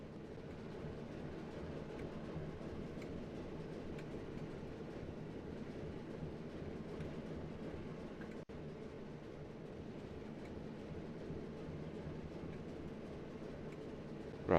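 Class 08 shunter locomotive running in Train Sim World 5 on the Preston to Carlisle route, a steady droning engine rumble with faint rhythmic rail clatter, continuous and unbroken throughout with no voices.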